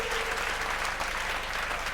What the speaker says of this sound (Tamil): உங்கள் கைத்தட்டல்களோடு